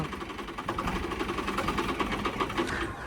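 A tractor engine runs close by, producing a fast, even chugging rumble with a rapid mechanical pulse, steady for a few seconds without speech.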